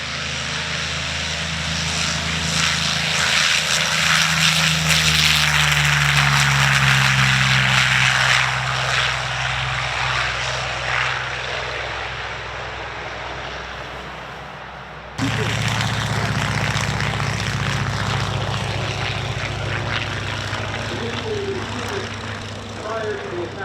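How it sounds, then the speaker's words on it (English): A Curtiss P-40 Warhawk takes off from a grass runway at a warbird weekend, its propeller engine roaring loud and close, rising in pitch and then easing away, with a brief cut before the drone resumes. "Today we're launching from our grass runway. Here she goes, the P-40 of the MAM."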